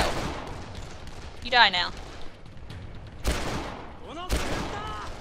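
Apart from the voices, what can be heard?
gunshots in the video game Dead Island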